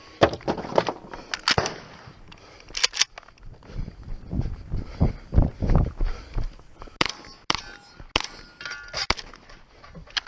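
Shotgun slugs fired at steel targets about 75 yards away in a 3-gun match, with sharp, loud shots followed by metallic clangs and rings. The impacts come in irregular pairs and clusters across the stretch.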